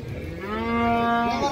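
A calf at a livestock market gives one drawn-out, fairly close moo that rises and holds, with no other voices over it.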